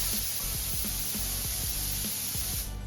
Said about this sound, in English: So I'm gonna go ahead and we're gonna go spraying base coat.